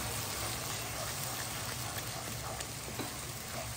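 Chili and cumin powder fry in hot oil for a mutton curry, giving a soft, steady sizzle with faint scraping of stirring, close and continuous without speech.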